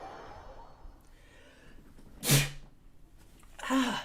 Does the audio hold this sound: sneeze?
yes